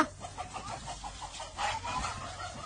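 Repeated chicken clucks in a quick, uneven series as the chicken is being caught, with a burst of louder flustered squawking partway through, close by over a low background rumble.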